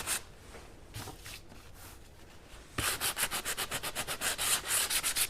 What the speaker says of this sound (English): let's get my sanding pad out again. And let's sand